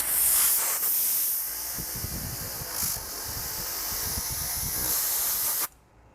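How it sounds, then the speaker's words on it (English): A loud, steady hiss of compressed air from an air compressor blow gun cleaning a car polishing pad, blowing for several seconds, then cutting off abruptly. "take a basic air compressor little gun here and just spray it out"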